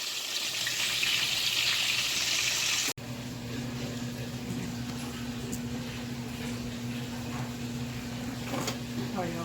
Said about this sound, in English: My husband got the washing machine on